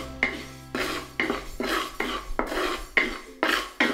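A metal utensil scrapes and clatters against a pan as rice is stirred to brown for Mamak fish head curry, about ten quick strokes in an uneven rhythm, close and crisp with no voices.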